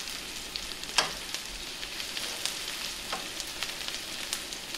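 Meatballs fry in a pan with a continuous close sizzle and crackle, broken by a sharp stirring clunk early on and a few lighter scrapes, with no voices.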